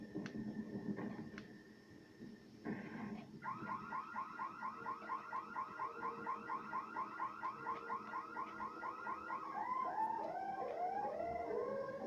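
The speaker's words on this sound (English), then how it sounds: "that alarm has always scared me whenever I go in there, especially if I forget about it" Car alarm in the Dead Island video game, a repeating warbling electronic siren with a fast steady pulse over a low background rumble, at moderate distance, no talking.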